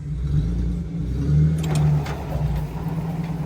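A 4-wheel-drive vehicle with no front drive shaft fitted, stuck frozen in place, revs its engine hard in a steady mid-pitched roar that swells and eases as it strains to pull free.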